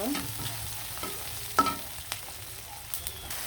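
Onion paste and garam masala fry quietly in a pan while being stirred for a chicken curry, with a low steady sizzle broken by a few sharp scrapes and clinks of the spoon.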